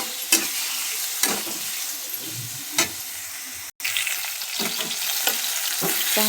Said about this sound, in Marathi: कांदा, टोमॅटो आणि मिरची, खोड मिरची हे टाकू. हे आता चांगलं परतून घ्या.